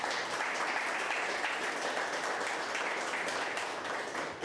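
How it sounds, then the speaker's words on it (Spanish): A church congregation at a Spanish-language sermon gives a sustained round of applause to the Lord, a steady, faint wash of clapping from a distance with no pauses. "Dale un gran aplauso al Señor"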